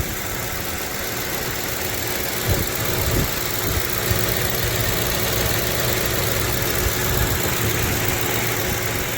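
A 2011 Ford Crown Victoria LX V8 idles steadily at close range, a constant low rumble and hum with a few faint knocks and no talk over it.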